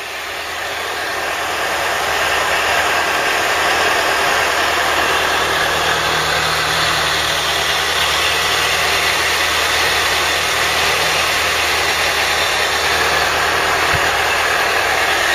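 Ford Cortina Mk3 engine running steadily, heard close and loud as a constant broadband drone with a low hum underneath, rising at the start and holding level throughout.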